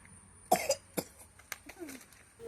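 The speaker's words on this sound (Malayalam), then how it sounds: "പക്ഷെ നല്ല ചുമയാ." A person with a bad cough but no fever coughs several times in quick, sharp bursts close to the mic, with a throat-clearing sound among them and quiet pauses between.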